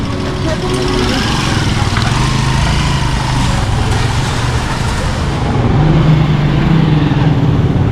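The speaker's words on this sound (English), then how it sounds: "A lot of tricycles, a lot of motorbikes." Motorized tricycles and motorbikes rumble along a wet street in a beach town in El Nido, Palawan, engines droning continuously close by, one growing louder near the end as it passes.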